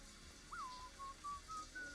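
A Sims 4 character whistles in the shower: a bright, clear melody of short sliding notes, a few gliding tones, after a brief quiet start, over faint background hiss.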